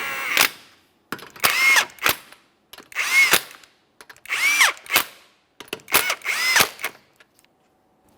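Impact driver snugging lug nuts onto the wheel of a 2015-2019 Subaru Outback, loud near bursts of whirring and rattling with short gaps between them, roughly seven runs in total.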